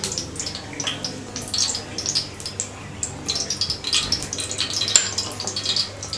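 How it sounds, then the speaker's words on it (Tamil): Oil poured generously onto a heating dosa tawa before frying marinated seer fish, a soft liquid pour with small splashy, drippy bursts that come and go at moderate volume, close by. "இதில் வந்து கொஞ்சம் நிறைய எண்ணெய் ஊற்றிக்கலாம்."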